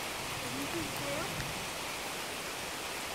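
A rain storm pours on a forest trail in the Finger Lakes region, a steady dense hiss of rainfall on leaves and ground, close and continuous, with faint voices briefly audible beneath it.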